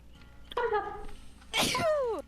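A sharp, loud sneeze bursts out close to the microphone, following a brief voiced sound, during a casual gaming livestream with people chatting.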